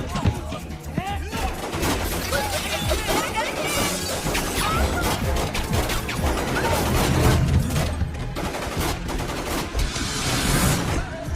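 Sustained rapid gunfire in a 2008 Hindi movie rattles continuously, dense bursts of shots overlapping with crashes, loud and close throughout.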